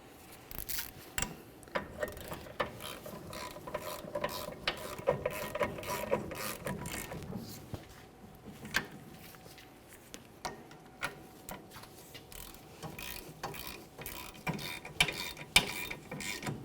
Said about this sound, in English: Start them in by hand, snug them up, and then torque those to